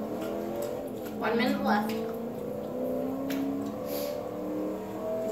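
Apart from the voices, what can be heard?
car engine revving in video game Forza Horizon 3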